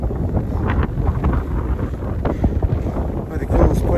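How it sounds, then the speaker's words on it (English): Strong gusty wind batters the microphone on an Oklahoma hilltop, a loud rumbling roar that surges and dips continuously. "The wind up here is beyond brutal."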